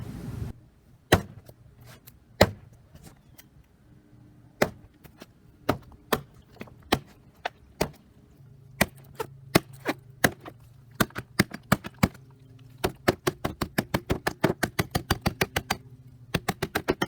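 Sharp chopping impacts from a hatchet striking a water jug inside cardboard, sparse at first, then faster and more rapid, each a crisp thwack against a hollow, papery target.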